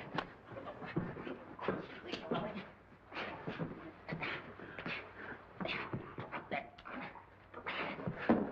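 A dog whimpering and whining in an old 1939 crime film scene, repeated short yelps and whines with shuffling, moderately faint and close, with no clear talk over it.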